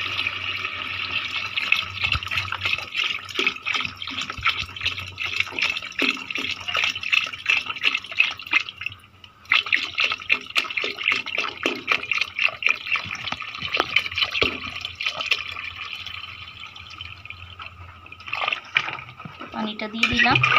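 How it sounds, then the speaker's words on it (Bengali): Water pours and splashes steadily into a biryani pot, with a brief pause midway before the flow resumes, and a person talks over it. "পানিটা দিয়ে দিলাম।"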